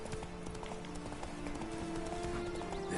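A rapid, continuous clatter of horse hooves from a galloping mount in The Witcher 3: Blood and Wine rolls on over dense game ambience, with no clear talk.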